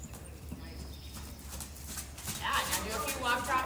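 Pony hooves clip-clopping steadily during walk-trot transitions in a riding lesson, a rhythmic series of hoof beats at moderate distance, with people talking over them.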